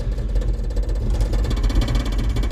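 A Ford 302 V8 fitted with new spark plugs and a DuraSpark ignition box runs on its own at a steady, loud, rough rumble, holding an even throb for a few seconds with no voices.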